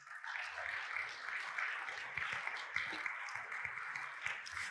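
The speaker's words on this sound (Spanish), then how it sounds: "Da un aplauso al Señor si vas a aplaudir." A church congregation applauds in a soft, fairly distant wash of clapping that carries on steadily throughout, with scattered louder individual claps.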